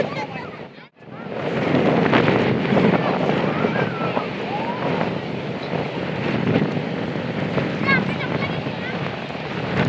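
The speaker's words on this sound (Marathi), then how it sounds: "आणि हा समुद्र बघू शकता तुम्ही, खवळलेला समुद्र" Wind roars across a rough, stormy sea with crashing waves, and strong gusts batter the microphone in a loud, constant rush. A brief dropout comes near the start, and faint voices are mixed into the noise.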